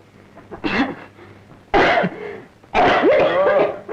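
Three harsh coughs, each louder than the last, with pauses between them and no talking.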